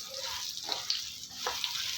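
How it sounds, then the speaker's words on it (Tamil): Soft, steady sizzling of beetroot sautéing in a pan for chutney, with faint scraping and stirring noises now and then, quiet and close. "பீட்ரூட்டு நல்லா வதங்கி வரட்டும்"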